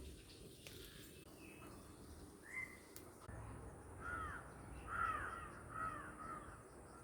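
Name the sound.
crows cawing outdoors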